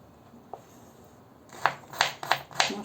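A knife cuts hilsa fish into small pieces on a board, giving four crisp, evenly spaced chopping strikes close up in the second half after a quiet start with one faint tap.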